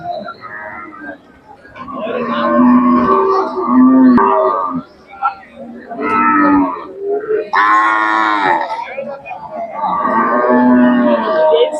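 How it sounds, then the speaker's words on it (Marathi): A Khillar dairy cow moos loudly and repeatedly, close by at a cattle market in Sangola, with people talking around it and over the calls. "गाय छान दुधाची आहे"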